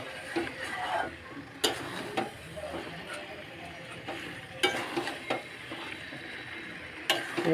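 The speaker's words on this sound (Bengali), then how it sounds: "এক্ষুনি আরও তো কষাবো, আরও তো সুন্দর কষবে।" Meat being kosha stir-fried in a pan sizzles steadily at moderate level, with periodic sharp scrapes and clanks of a spatula against the metal, no speech.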